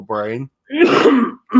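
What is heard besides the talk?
cough or sneeze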